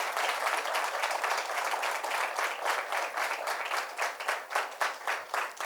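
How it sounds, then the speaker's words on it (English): A symposium audience claps loudly and steadily, dense applause with a slightly pulsing rhythm sustained throughout, no talk over it. "I want everybody to clap loudly for all of them"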